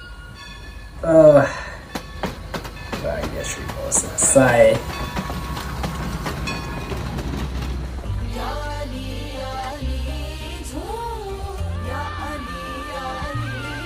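A train sound effect blends into a music track, with rumbling, clattering passages and a horn-like swell rising early before the song takes over with singing; a voice speaks briefly.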